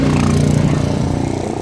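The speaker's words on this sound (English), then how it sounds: "Jet ski on South Shore." A jet ski engine on the water off the South Shore of Bermuda, heard close as a loud, steady buzzing drone with a slight rhythmic pulsing, alone without talk.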